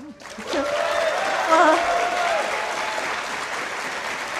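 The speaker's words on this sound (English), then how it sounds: "don't cheer too loud" Loud, steady applause with some cheering from a crowd at a Devil May Cry 5 booth at PAX West 2018, sustained throughout with a brief swell in the middle.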